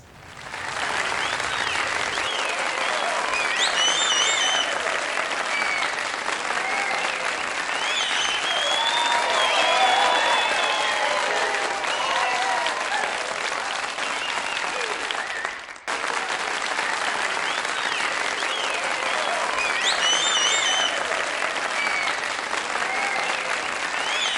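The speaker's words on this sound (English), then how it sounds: "Give big applause to these students." An audience applauds students at a summer music recital, with sustained, fairly even clapping lasting over twenty seconds, broken by a brief drop midway. Scattered cheers and voices rise through it at points.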